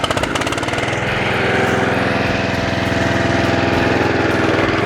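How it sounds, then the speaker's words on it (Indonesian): FIRMAN FWM700-R robotic brush cutter engine started by remote control, running at a steady loud idle with an even mechanical chug throughout, close to the listener, with no talking. "Kita hidupkan lagi mesinnya dengan menggunakan remote ini."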